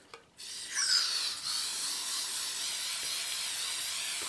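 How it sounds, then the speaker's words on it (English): A steady hiss of spray starts after a brief click and continues evenly, close by, with no talking. "I'm going to get my spray adhesive"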